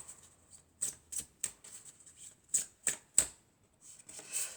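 Tarot cards being shuffled by hand during a general and romantic reading, a series of soft crisp riffles and flicks in irregular bursts, quiet and close, with no talking.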